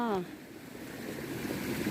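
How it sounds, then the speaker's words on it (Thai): Water flowing in a stream, heard as a steady, close rushing wash that fills the clip after a brief voice at the very start. "น้ำไหล"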